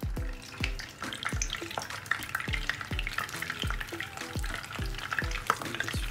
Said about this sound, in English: Let's fry this piece slowly.